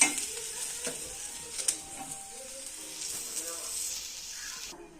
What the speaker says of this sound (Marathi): आता लगेच कांदा टाकणार आहोत.